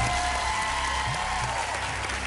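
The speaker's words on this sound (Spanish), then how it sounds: "Un aplauso" Applause from the audience of a televised Latin beauty pageant fills the moment in a steady, dense burst, with a sustained musical tone running underneath.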